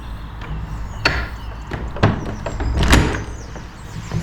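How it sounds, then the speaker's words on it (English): An old wooden door at St Nicholas Church in Chawton creaks and knocks as it is tried and opened, with several distinct thuds and latch clunks spread over a few seconds, fairly close and with no voices. "And let's try the door."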